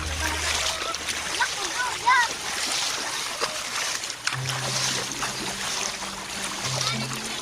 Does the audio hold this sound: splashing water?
yes